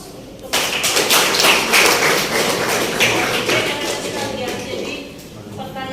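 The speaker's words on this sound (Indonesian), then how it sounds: "Beri aplaus untuk teman." A classroom of students breaks into applause for a classmate, a dense burst of hand claps that starts suddenly, stays lively for a few seconds and then thins out, with voices murmuring underneath.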